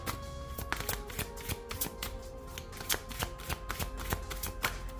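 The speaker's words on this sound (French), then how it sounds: "On va prendre une carte supplémentaire." Tarot cards shuffled and drawn at a reading, a run of quick, crisp riffling and flicking snaps, close and fairly quiet, with no talking over them.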